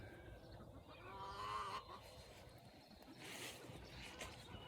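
A gaggle of geese honking on a morning walk outdoors, several calls blending at moderate distance over steady background noise, with no talk.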